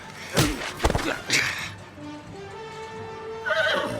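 A horse whinnies loudly up close, with clip-clopping hooves and thumps in a dramatized radio scene about an arrest. The neigh's harmonics trail off before a second short whinny near the end.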